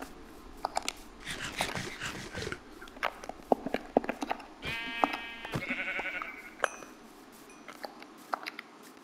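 Sheep in the Minecraft video game bleat twice in a row, with clicky game sounds and footsteps around them, fairly close and clear, with no talking.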